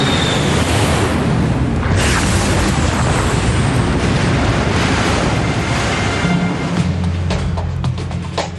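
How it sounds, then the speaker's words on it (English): Dramatized impact of an airliner hitting the ocean, a loud roaring boom and crashing rush of water that sustains throughout and fades into rumbling turbulence near the end. "The aircraft hits the water with a force of 350"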